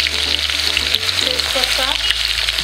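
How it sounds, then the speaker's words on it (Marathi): Mustard seeds, cumin and garlic sizzling in hot oil in a pan, a loud, steady, close crackle that continues without a break and has a faint low hum beneath it. "आपली मोहरी छान तेलावर तरतरली, त्यात आधी आपण जिरं, त्यासोबत आपण लसूण"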